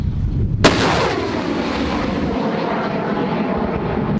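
Grad multiple rocket launchers fire artillery with a sudden loud blast, followed by a heavy, sustained roaring rumble that fills the whole stretch.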